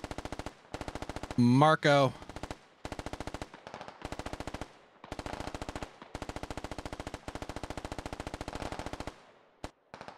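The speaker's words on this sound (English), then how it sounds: "Gunner was doing a good job with their burst, but they're a little too long and not enough breaks in between them" Machine-gun fire in the military shooter game Squad comes as a string of long rattling bursts separated by short pauses, fairly close, with a voice speaking briefly among them.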